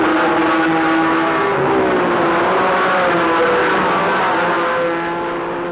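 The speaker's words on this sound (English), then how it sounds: "The Can-Am cars, with their huge engines and aerodynamic bodies, are as fast or faster than the lightweight Grand Prix cars" Can-Am race cars with huge engines roar around a winding road course in 1969, a loud sustained engine drone that shifts pitch as the cars pass and accelerate, with no voices.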